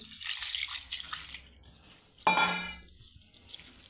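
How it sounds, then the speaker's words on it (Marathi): Mung dal is washed and rubbed by hand in water, with soft swishing and a sudden splashy slosh midway, then quieter trickling; no voices. "आधी मी मुगाची डाळ धुवून घेणार आहे, व्यवस्थित अशी 2-3 पाण्याने धुवून काढायची आहे"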